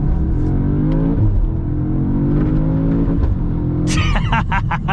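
A 2025 Audi S3 with Dynamic Plus accelerating hard, its engine note climbing steadily, then a sharp gearshift jolt and a crackling burst near the end; loud, close and continuous with no talk.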